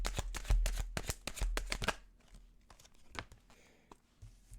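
A deck of tarot cards riffles through a quick, close shuffle of rapid flutters, then softer isolated card clicks and slides follow as cards are drawn, with no talking.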